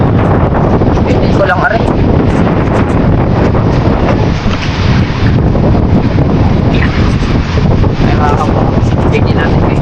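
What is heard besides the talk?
strong wind blowing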